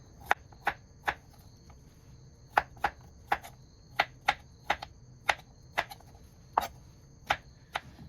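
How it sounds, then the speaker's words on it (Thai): A knife cuts a cucumber into rounds on a cutting board while a crispy tofu salad is prepared. About a dozen crisp, close taps come in an uneven, steady rhythm with quiet gaps between, and no talking. "อย่างเราจะหั่นเป็นแว่นๆแบบนี้นะคะ หั่นไม่บางไปแล้วก็ไม่หนาไปนะ"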